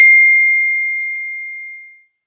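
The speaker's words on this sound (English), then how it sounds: "That's my phone ringing and my computer's picking it up." A mobile phone ringing, picked up through a nearby computer, gives a single bright chime that rings out and fades smoothly over about two seconds, with nothing else heard.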